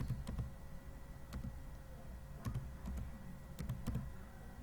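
Keys clack on a computer keyboard in short irregular bursts of taps, close and fairly quiet over a faint steady hum, with brief pauses between words.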